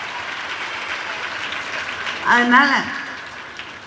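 Steady applause from an audience at a Tamil public speech event runs through the whole stretch, with a brief voice rising over the clapping near the middle.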